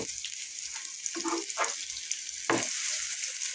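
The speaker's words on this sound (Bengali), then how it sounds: "আমি বড়াগুলো একটু উল্টিয়ে পাল্টিয়ে কড়া করে ভেজে নেব" Masoor dal fritters with pui (Malabar spinach) leaves deep-frying in oil, a steady close hiss with a few scrapes and bubbling bursts as the pieces are turned, with no talk.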